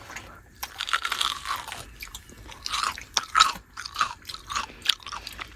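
Crunchy food being chewed at a seaside fishing campsite: a close, irregular run of crisp crunching bites over several seconds, with no talk.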